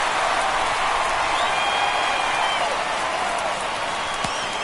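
Steady stadium crowd noise in an MLB The Show 22 Orioles vs. Yankees game during a tense ninth inning, a constant broad roar and murmur that stays loud and even throughout.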